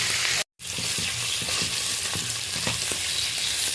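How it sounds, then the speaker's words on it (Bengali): Pieces of tarai fish fry in hot oil, a loud dense crackling sizzle with faint spatter pops, briefly cut off near the start, no voices. "অল্প অল্প করে আমি পুরো মাছটা ভেজে নেব"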